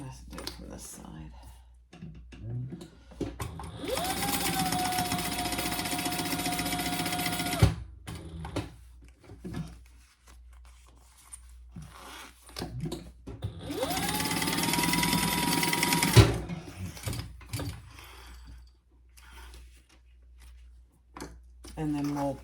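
A sewing machine stitches a quarter-inch seam in two steady, fairly loud bursts of whirring motor and rapid needle clatter, each lasting a few seconds, with quiet handling noises and a voice talking in the gaps between runs.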